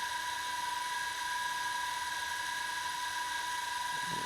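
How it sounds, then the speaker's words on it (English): Motors of a JJRC H26WH quadcopter drone idle on the ground before takeoff, giving a steady, high electric whine with a constant pitch that holds unbroken throughout. "the way to start the quadcopter's motors and bring them to idle was by pressing this button here"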